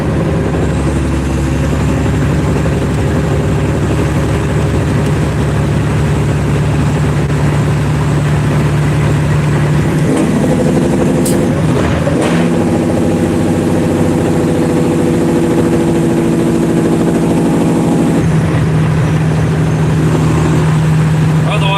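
A semi truck on a highway easing off speed, its heavy engine droning loud and steady inside the cab, with a brief shift in tone midway as it slows.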